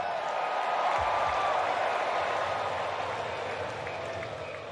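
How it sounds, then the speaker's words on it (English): Baseball stadium crowd at a San Diego Padres vs Atlanta Braves game, a broad sustained roar of cheering from many distant voices, steady and loud throughout with a slight fade at the end. "Starting to get the crowd revved up."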